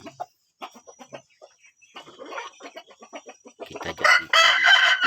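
Free-range village chickens in a coop cluck in short, scattered bursts, followed near the end by a loud, drawn-out rooster crow, fairly close.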